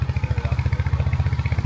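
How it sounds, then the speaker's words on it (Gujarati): Motorbike engine running while riding, a close, loud, even thumping putter with rapid regular pulses and no talking over it. "આપણા બાઇકનો અવાજ કંઈક વધારે આવે"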